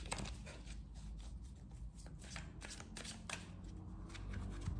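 Tarot cards are shuffled and cut by hand, a run of crisp, close riffling and sliding card sounds in quick bursts over a faint background, with no talking.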